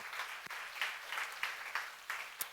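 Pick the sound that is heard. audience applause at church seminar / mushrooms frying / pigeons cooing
audience applause at church seminar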